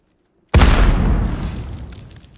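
A grenade explodes in the Modern Warfare video game: one sudden, loud, close boom that opens with a sharp crack and settles into a long rumbling decay lasting about two seconds, with no speech.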